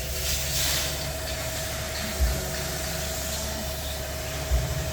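A straw baler that cuts stubble runs its hydraulic motor to spin the front cutter, giving a loud, steady mechanical drone with a thin whine on top and two brief thumps.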